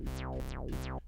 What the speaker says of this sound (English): so you got a bassy sound like this